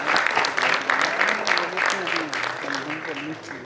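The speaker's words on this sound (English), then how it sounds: "Mr. Ritesh Pathak, please round of applause" An audience at a panel discussion claps steadily for several seconds, a continuous wash of applause from a crowded room, with a voice speaking over it.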